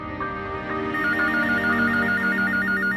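A telephone rings with a repeating warbling electronic tone over a steady low background hum, fairly close and alone with no voices.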